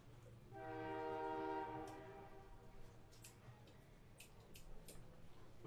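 A train horn sounds in one long, loud, steady blast as the train rolls into Yorkton beside a baseball game, then fades into a low rumble. Crowd noise and faint clanks follow.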